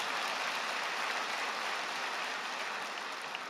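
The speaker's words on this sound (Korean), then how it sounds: "이럴 때 박수를 쳐야죠." Congregation applauding at a church anniversary service held by a Korean newspaper, a steady dense wash of clapping at low level that holds evenly for a few seconds with no speech.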